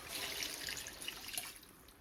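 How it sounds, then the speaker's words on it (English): About two cups of water pour into a pot on the stove, a faint, soft trickling splash that is steady and then tapers off, heard close with no talk. "I'm gonna add about 2 cups, maybe like 2 1/4 cups of water here."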